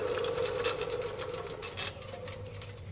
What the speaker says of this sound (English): It's a real mower. Not real as in authentic, but real as in it uses a reel to cut.